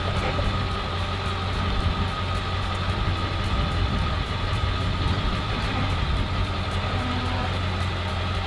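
A Cutwater 242 Coupe boat idles down an inlet, its engine giving a steady, continuous low drone with water and wind noise throughout, unbroken and fairly loud.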